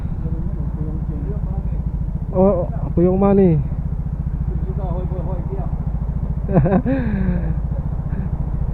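A motorcycle engine idles steadily right after a drive belt repair, a low continuous throb with slight rev swells, while people talk over it.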